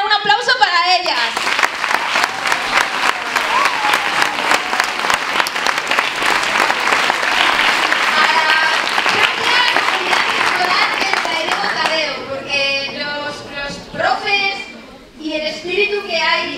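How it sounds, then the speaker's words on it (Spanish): An audience at a school tribute event honouring women, held at a secondary school in Ciudad Rodrigo, breaks into loud, sustained applause that carries on for most of the stretch, with a voice speaking over it as the clapping fades near the end. "Un aplauso para ellas."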